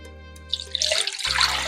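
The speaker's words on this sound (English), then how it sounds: "Now, I have 2 cups of beef stock, okay, guys?" Two cups of beef stock poured into a pan of taco spaghetti with green chilies, a close, steady splashing pour that builds quickly and runs on for over a second over a low background hum.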